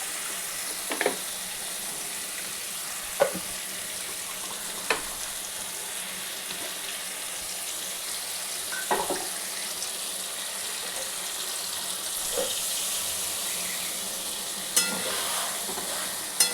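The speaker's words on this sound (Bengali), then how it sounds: "একটু বাটি ধোয়া জল আমি এতে দিয়ে দেবো" Rinse water from a bowl is poured into a pan of sizzling poppy seed paste for a ridge gourd and potato dish, giving a steady close hiss with occasional sharp spatters and utensil taps, no voices.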